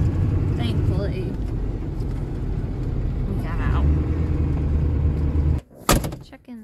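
A four-wheel-drive farm vehicle rumbles steadily across a muddy field, its low engine drone continuous and close, with bumps and rattles, then a sharp clatter near the end as the drive cuts out.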